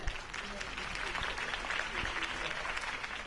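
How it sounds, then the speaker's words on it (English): A crowd applauds steadily in the video game Batman: The Telltale Series, Season 1, a dense wash of clapping that carries on throughout at a moderate level. "could have heard that applause"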